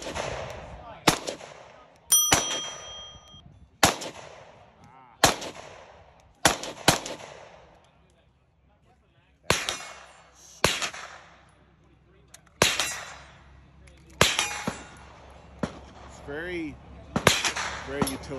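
A 5.7 Rock pistol fires about a dozen sharp, loud shots in an uneven rhythm at an outdoor shooting event, each crack ringing out briefly, with faint voices in between.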